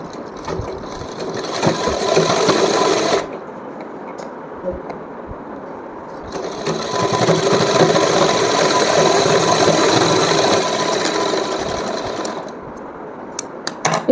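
A sewing machine stitches a cotton dress for a small Laddu Gopal idol, running in two loud, steady bursts of rapid mechanical chatter separated by a quieter pause.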